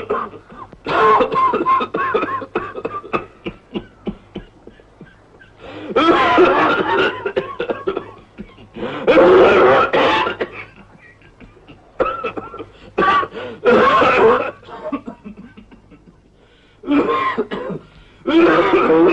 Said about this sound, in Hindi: दिन ब दिन पिताजी की खांसी बढ़ती ही जा रही है।